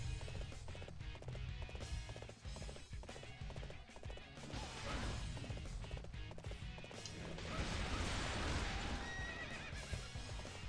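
Horse in a video game whinnying loudly amid clip-clopping hooves and running, with clashing and thwacking sounds of battle around it.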